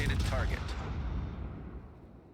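Salvo from the cruiser Annapolis's guns in World of Warships, a booming blast that opens the clip and rolls away into a long, fading low rumble.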